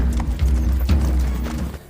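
Donkeys bought from villagers to carry money walk along a long journey, their hooves clip-clopping in a steady rhythmic series of close, fairly loud knocks.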